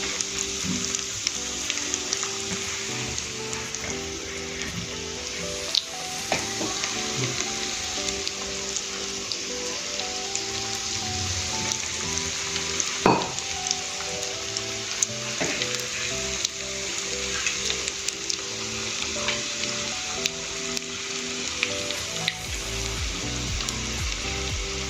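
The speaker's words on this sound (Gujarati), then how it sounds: "તેલને આપણે મીડિયમ જ રાખીશું, જેથી કરીને તળતી વખતે અંદરથી ફાટી ના જાય." Corn kababs deep frying in medium-hot oil for a crispy street-style snack give a steady, close, crackling sizzle with scattered pops and the occasional stir, continuing without any voices.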